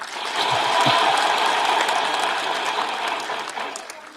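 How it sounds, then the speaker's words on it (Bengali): An audience at a public gathering bursts into loud, sustained applause, a dense wash of clapping that swells quickly and then slowly tapers off. "আমাদের উচ্ছ্বাসের জন্য একটা জোরে হাতটা দিই"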